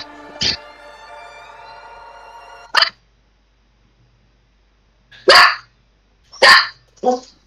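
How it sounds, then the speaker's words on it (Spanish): A pet chihuahua, a small female dog, yaps in a series of five sharp barks close to the mic. The first is longer and more drawn out, and the rest come as short bursts separated by brief silences. "Es mi perrita. ¿Qué raza es? Es chihuahua."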